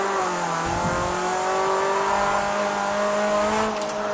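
A Honda Prelude engine drones steadily on a mountain touge road, heard loud and close from inside the car, its pitch holding and rising slightly under load with no pauses.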